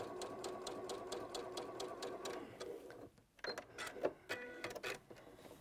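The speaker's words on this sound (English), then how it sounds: "Just going to sew this" A sewing machine stitching a triangle quilt block, running in quick rhythmic bursts with a brief pause midway, then several short stop-start runs, fairly close and quiet.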